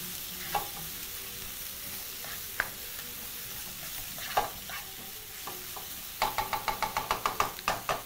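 Onions sweat in oil in a pan under a soft, low sizzle, with occasional spoon knocks and then a quick run of rhythmic stirring clacks near the end.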